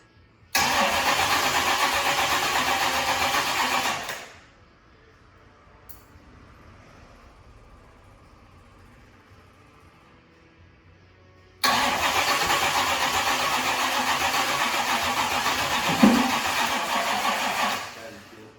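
An engine cranks and fires into a loud roar that runs about four seconds before cutting out, then after a quiet pause starts again and runs loudly for around six more seconds.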